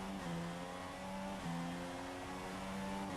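A simulated Formula 1 car with a Renault engine in the F1 2016 racing game at the Austrian circuit revs hard and steadily, with a brief dip like a gear change midway, loud and continuous with no talking.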